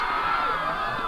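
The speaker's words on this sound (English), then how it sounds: "Gets a cheer out of the crowd." A crowd at a boys' soccer game cheers and screams in a steady, sustained roar that lasts briefly, with shrill high voices prominent and no clear speech.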